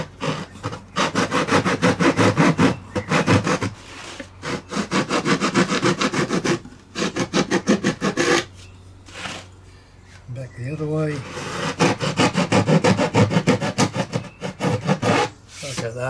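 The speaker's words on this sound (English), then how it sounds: "just to open it up, use my hacksaw blade" A hacksaw blade cuts through a part of a Warbirds Replicas Hawker Tempest model aircraft during dihedral brace fitting, with quick, close, rasping back-and-forth strokes in bursts and short pauses, and a voice speaks in between.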